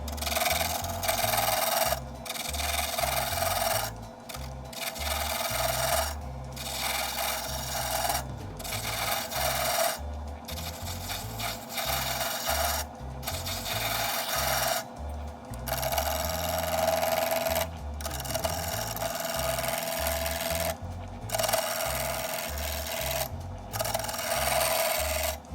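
A pen blank spins on a lathe while a tool chips it round, giving a steady, close rasping scrape broken by brief regular pauses over a low mechanical hum.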